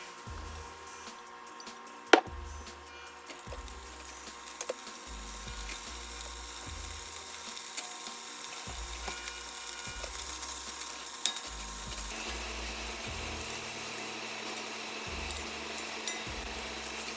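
Kielbasa sausage sizzling steadily in a pot on the stove, with repeated scraping stirs every second or so, close and clear, with no voices.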